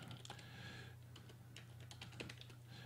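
Quiet rapid clicking of keys on a computer keyboard during a programming tutorial, an irregular close run of keystrokes over a low steady hum.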